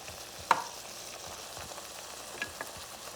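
Crab meat going into a frying pan for Puerto Rican rice with crabmeat, a faint sizzle underneath with a single clear knock and a couple of soft spatula taps as it is mixed.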